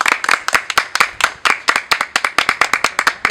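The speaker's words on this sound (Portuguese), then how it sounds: "eu quero dar uma salva de palmas para Dona Lucy" Close, rhythmic hand clapping from a small group honoring Dona Lucy, a steady run of sharp, loud claps with no talk.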